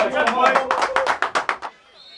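A football crowd at Champion Hill, home of Dulwich Hamlet, claps in a quick rhythmic burst with voices mixed in. The claps speed up, then stop abruptly into near silence.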